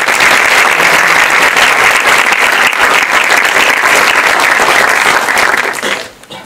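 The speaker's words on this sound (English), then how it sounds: "can we give a big round of applause to our panel?" A large theater audience at a panel discussion applauds loudly and steadily, a dense wash of clapping that fades out at the very end.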